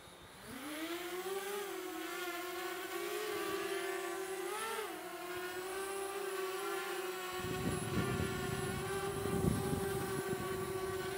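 A DJI Spark drone's motors spin up into a high, rising whine as it lifts off, then settle into a steady buzzing hover with slight pitch wobbles. Rougher, gusty noise joins near the end.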